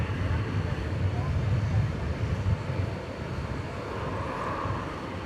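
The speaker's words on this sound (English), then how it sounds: "Next to arrive, a flight from Santa Ana, California, American Airlines." An American Airlines Boeing 737-800 arriving from Santa Ana, California, at night at DFW Airport gives a steady low jet rumble at moderate distance, easing slightly partway through, with a voice faintly audible over it.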